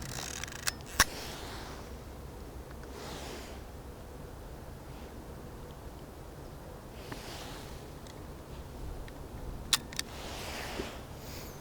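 A Voigtländer Vitomatic 1 film camera's shutter clicks a few times, brief faint snaps spread out over about ten seconds against a quiet hissy room background.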